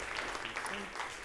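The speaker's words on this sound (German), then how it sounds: "Mit einem Applaus geht's einfacher." Audience applause at a university conference day in Zurich as guests come on stage, a steady dense clapping that fills the hall from start to finish.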